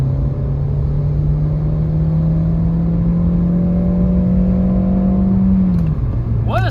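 A Renault Clio E-Tech 145 hybrid accelerates hard from 80 to 110 km/h in normal MySense mode, its engine droning at a steady, slowly rising pitch inside the cabin before dropping near the end.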